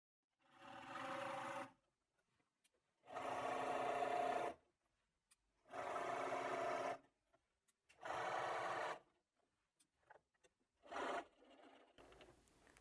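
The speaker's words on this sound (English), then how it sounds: "Put my needle in and sew to the other corner" Sewing machine stitching binding onto a quilt, running in five steady bursts of about one to two seconds each, separated by short pauses and small handling clicks, close and fairly loud with no talking.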